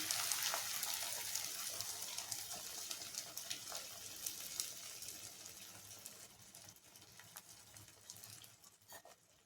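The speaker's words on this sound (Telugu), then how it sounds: "ఇప్పుడు మనం బీట్ చేసుకున్నాం కదా ఎగ్స్, అవి పోసేసుకోవాలి." Beaten eggs pour over mixed vegetables in a hot pan for an omelette, giving a continuous bright hiss and sizzle that slowly fades as the eggs settle, with no talking.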